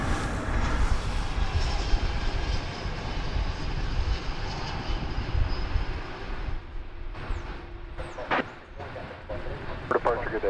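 Loud jet engine roar of an airliner taking off from runway 18 left at DFW Airport, strong and sustained before easing off, with brief radio-like chirps near the end.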